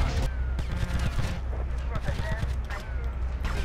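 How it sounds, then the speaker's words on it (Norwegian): Gunfire in GTA Vice City Definitive Edition, rapid bursts of loud shots repeating through the whole stretch, mixed with other game sounds, with voices talking now and then. "Kan du skyte på meg? Du skyter faktisk."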